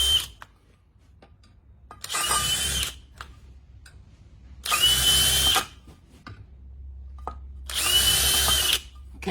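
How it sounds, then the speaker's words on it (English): A power drill pre-drilling holes for lag screws while mounting a glass railing bracket, three separate short whirring bursts of about a second each, close and loud, with quiet gaps between them. "Do a little pre-drill,"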